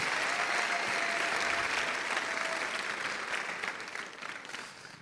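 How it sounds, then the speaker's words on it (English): A crowd applauds loudly and steadily, a dense wash of clapping that gradually fades toward the end. "let's give them another round of applause"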